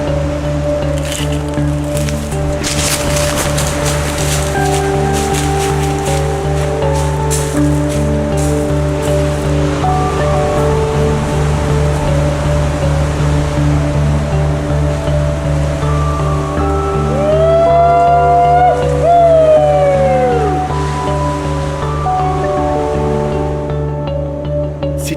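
Surf washes steadily onto a stony wilderness beach in a continuous broadband roar, heard alone with no talk, under a sustained tonal hum and a brief whistling sweep near the end.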